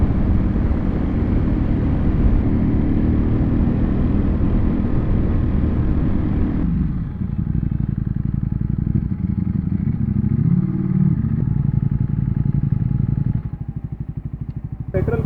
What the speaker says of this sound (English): There's a lot of wind blast for sure.